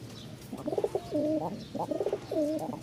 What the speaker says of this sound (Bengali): এক জোড়া লাল সুন্দরী আমি নটটার একটু ডাক দেখাই দিই